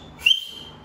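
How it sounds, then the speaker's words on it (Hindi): A single short, sharp whistle blast on a film set, one bright tone that rises quickly and then fades over a fraction of a second against a quiet background. "क्या सीटी था ये?"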